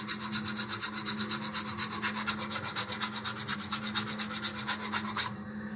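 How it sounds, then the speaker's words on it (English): Sandpaper rubbed back and forth over a model rocket fin, a steady rhythmic rasping of even strokes, close and loud, stopping near the end. "I'm slowly moving the fin so that it becomes more rounded as I'm moving back and forth with the sandpaper"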